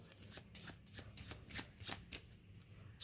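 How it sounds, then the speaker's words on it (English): Twelve playing cards are shuffled by hand, a soft quick series of riffling flicks and snaps in short bursts, close and quiet, with no talking. "I'll just give it a good shuffle."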